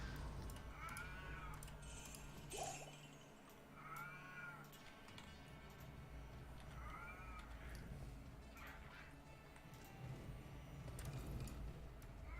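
The old cat character in the Grim Internals video game meows faintly over and over, a series of strained, raspy calls spaced a second or two apart over a low game background.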